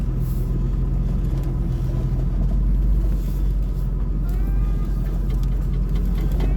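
A Jeep on 37-inch tires crawls off-road up a hill, its engine giving a steady, close, loud rumble with low drone throughout and no talking.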